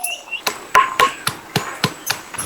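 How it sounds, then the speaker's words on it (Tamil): Garlic being pounded for a clay pot fish curry, with about eight sharp, close thuds in a steady rhythm over a faint background and no talk. "நங்கு நங்கு நங்குன்னு இடிக்கணும் பூண்டை"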